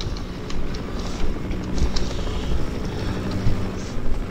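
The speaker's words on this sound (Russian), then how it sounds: "Это кто? Это вертолет." A helicopter in the video game Half-Life gives off a constant low rotor drone and engine rumble that holds steady throughout, moderately loud, with faint higher clatter above it.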